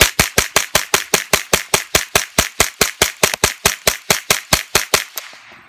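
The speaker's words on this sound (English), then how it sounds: "Let's move on to the rifle, the Ruger, where it was having problems. Lead round nose function test." A Ruger .22 rifle firing CCI 22LR lead round nose ammunition in a rapid, even string of about twenty sharp, loud cracks close by, then falling silent.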